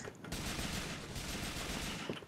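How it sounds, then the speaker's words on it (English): Police gunfire in GTA IV multiplayer: a dense, continuous burst of rapid automatic shots lasting about two seconds, loud and close, with no talk over it. "Cops are shooting."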